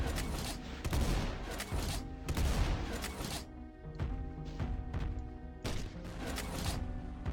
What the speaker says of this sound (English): So now we have a laser flak cannon